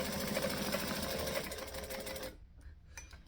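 Sewing machine with a 1/4 inch foot running a steady, fast line of stitching, close up and even in rhythm, then stopping abruptly near the end, leaving quiet room noise.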